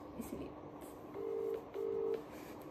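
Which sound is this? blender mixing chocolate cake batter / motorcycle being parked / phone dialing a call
phone dialing a call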